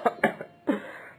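An elderly villager, an animated storybook character, gives three dry, close coughs: two quick ones, a short pause, then a longer, rougher one that trails off.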